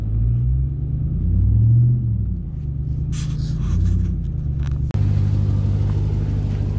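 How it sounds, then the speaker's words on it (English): An off-road vehicle backs out of an old, disused trail during a pre-run, its engine a steady low rumble that rises and falls, with some rattling partway through and a sudden shift in the noise near the end. "I just drove up here and then realized we couldn't make it, so I had to back out."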